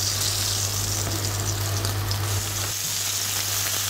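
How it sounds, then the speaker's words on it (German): Slices of blood sausage frying slowly in hot fat in a pan, a loud, close, continuous sizzle and crackle with a low steady hum underneath, no voices. "Und geben die ebenfalls ins heiße Fett und lassen die schön langsam von allen Seiten braten."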